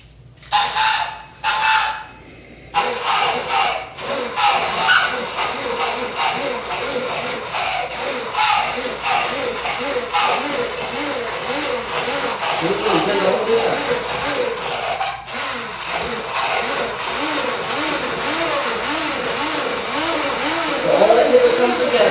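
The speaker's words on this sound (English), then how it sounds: "now I'm going to take my emulsifier" Immersion blender whirring through tomato basil soup in a home kitchen, with a few short bursts at first and then a long continuous churning drone that rises and dips as it blends, while a voice talks over it.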